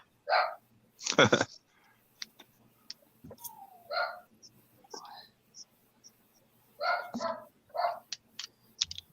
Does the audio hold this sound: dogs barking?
yes